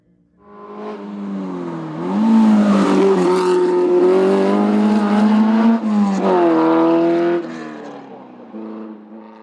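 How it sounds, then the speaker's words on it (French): A March Formule Renault racing car on a hill climb, its engine rising loud and close, revving hard through several gear changes before fading away. "Nicolas Riel, 12e sur sa March Formule Renault."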